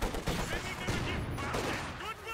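Gunfire and anti-tank gun shots crack through a Company of Heroes 2 video game battle, overlapping bursts and heavier booms filling a short, loud stretch of combat, with voices mixed in.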